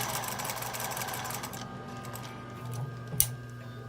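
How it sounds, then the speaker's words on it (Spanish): A sewing machine stitches a straight seam on skirt fabric, a close steady mechanical whirring hum that eases off partway through, with a single sharp click near the end. "Entonces voy a trazar costura recta hasta el centro de la abertura."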